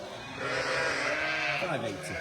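A sheep bleats just after being shorn, a loud, close, wavering cry that rises and falls over about a second, with people talking around it.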